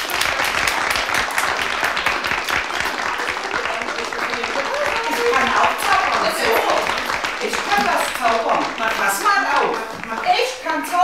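Children clap along at a lively outdoor performance in a forest setting, producing a dense, steady patter of many small hands. Young voices chatter and call out over the clapping, and someone speaks throughout.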